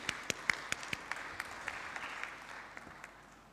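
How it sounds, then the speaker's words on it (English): Thin, distant applause from a small audience at an oil and gas congress, scattered individual claps standing out in an uneven rhythm and slowly tapering off. "So can we have a big round of applause for Michael"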